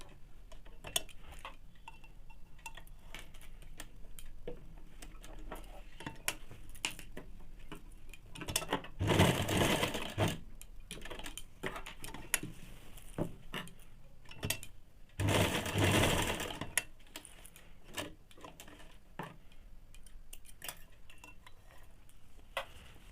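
While a ladies' pant is being stitched, a sewing machine whirs in two short, louder bursts amid quiet ticking and light handling clicks, with no voices.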